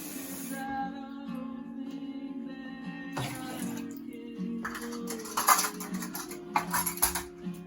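Cold water pours steadily into a pot, close by, with soft splashing that picks up toward the end over a faint background hum.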